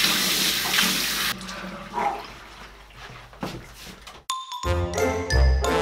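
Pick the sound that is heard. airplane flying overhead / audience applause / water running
water running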